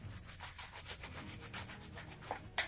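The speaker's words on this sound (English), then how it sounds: "they're very crinkly and my thighs kept rubbing together" Crinkly pants fabric rubbing against itself at the thighs, a quick run of soft, swishing rustles, close and fairly quiet, with no voices.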